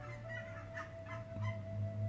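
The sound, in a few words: geese honking loudly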